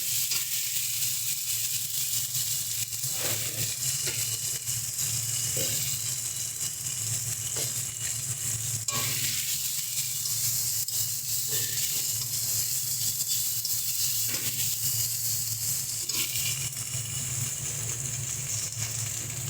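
Masala of turmeric and cumin powder frying for a soybean curry sizzles steadily in a pan, close and continuous, with occasional scraping stir strokes breaking through the hiss.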